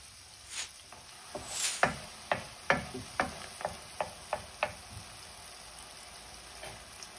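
Onion and garlic fry in butter in a pan, a quiet sizzle under a run of about a dozen sharp, evenly spaced clicks and scrapes from the stirring utensil, close by, with no voices.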